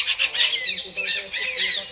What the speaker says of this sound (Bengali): পাখি তো ডাকছে কিন্তু দেখা যাচ্ছে না।